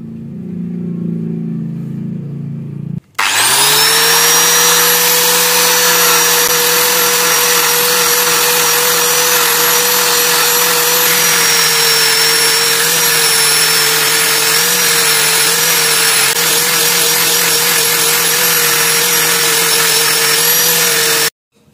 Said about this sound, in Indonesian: setelah kita gerinda seperti ini, kita rapikan bagian pangkalnya ya, supaya lebih rapi.